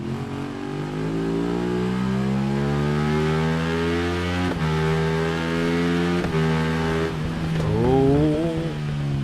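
A rival's Ducati motorcycle in the racing game RIDE 3 revs steadily nearby, its engine whine rising and shifting pitch through gear changes as it closes in, loud and continuous with no talk.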